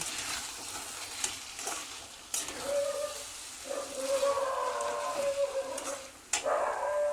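Fish head muri ghonto stirred in a pan, the spoon scraping and clacking against the metal amid a steady sizzle and frying crackle, several distinct knocks through the stirring, close and moderately loud with no talk.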